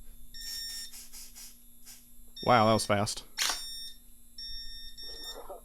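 A fire alarm system test board beeps in steady high electronic tones, sounding early and again near the end, while someone talks loudly in the middle.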